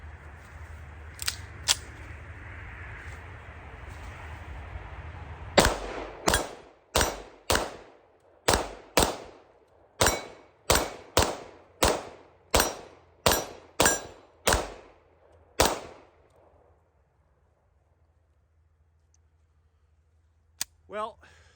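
A Springfield Prodigy 9mm pistol fires about fourteen sharp shots in a steady, evenly spaced string, loud and close, then falls silent. Faint handling noise comes before the shots and a short clank sounds near the end.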